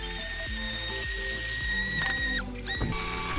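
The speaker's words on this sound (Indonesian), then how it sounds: "katanya blendernya tuh nggak usah terlalu halus" A blender grinds shallots, garlic and chili for tom yam paste, a loud whirring motor whine that keeps running with short surges and dips and one brief pause near the end.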